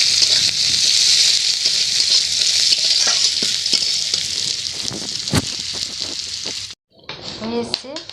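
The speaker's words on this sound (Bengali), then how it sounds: "খুব ভালো করে এগুলোকে ভেজে নেব।" Chopped onion sizzles steadily and loudly in a frying pan, with occasional stirring scrapes, then stops abruptly before a short softer stretch of cooking sounds near the end.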